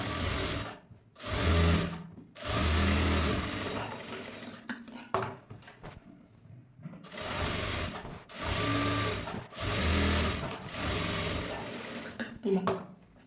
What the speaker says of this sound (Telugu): చూడండి ఇలా మళ్ళీ దీనిపై నుండి టాప్ స్టిచ్ అనేది వేసుకోవాలి.